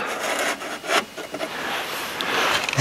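Rusty, rotten sill metal on a Citroen C5 being cut, giving rough, uneven rasping and scraping strokes close by, rising and falling in short bursts.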